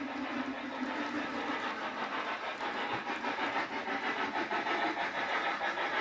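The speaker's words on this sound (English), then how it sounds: "Train runs pretty good." A model train rolls along a home layout with a steady, quiet mechanical whir and faint rhythmic clicking of wheels on track, continuous and fairly close, with no talking.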